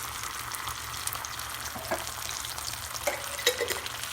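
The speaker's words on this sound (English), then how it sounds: "I'm going to start out sauteing some garlic until it's fragrant. So here goes the chipotle salsa." Chipotle salsa goes into a pan of sautéed garlic, making a steady, soft sizzle with a few brief stirring scrapes and clinks near the end, heard close and alone.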